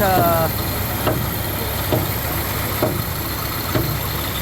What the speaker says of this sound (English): these are really strong Kubota engines, diesel powered, obviously